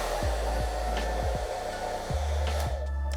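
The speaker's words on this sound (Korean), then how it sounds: "따뜻한 바람으로 20분간 말려주시면 됩니다. 드라이기로 충분히 말린 다음에" A hair dryer blows warm air over a handmade silver ring, a steady loud close whir broken by brief dips and shifts in pitch as it is moved around.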